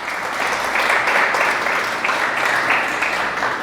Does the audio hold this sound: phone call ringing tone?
no